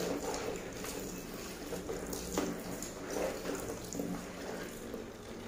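Hot water being poured over heavy bed sheets for washing, a continuous splashing, gushing flow with uneven surges, close by and fairly loud.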